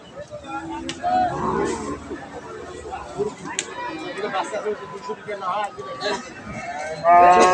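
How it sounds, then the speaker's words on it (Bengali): A crossbreed dairy cow moos loudly and close by at a busy cattle market, its long calls rising over the steady chatter and babble of the crowd. "এই যে এটা একটা ক্রস জাতের গাভি"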